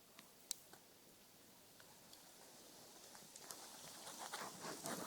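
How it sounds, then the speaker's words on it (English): Soft, scattered patter of raindrops and occasional louder drips, growing denser toward the end, heard alone in a quiet outdoor setting. "You can hear the rain"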